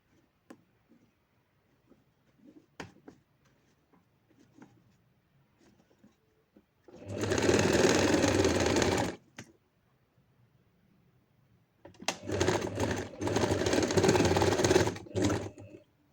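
Sewing machine stitching folded lehenga fabric in two bursts of fast, even, close-up whirring, with quiet small handling taps between them.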